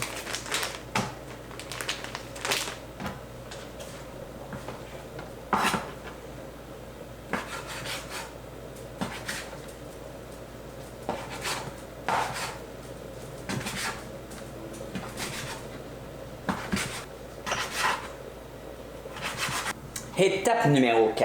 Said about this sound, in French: Et couper les saucisses.